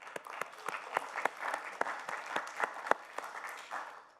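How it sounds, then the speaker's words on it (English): A small audience claps at a developer bootcamp session, a sparse, uneven patter of separate hand claps with a few sharper ones standing out, moderately close and with no talk over it. "So clap to you"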